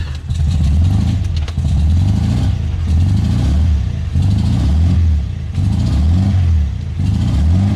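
A 1974 VW Beetle engine turns over and catches, then revs in repeated rising and falling bursts, loud and close, each rev building quickly before dropping back.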